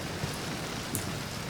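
Steady rain pours down over open farmland, a dense, even hiss with drops pattering on surfaces throughout, and no voices.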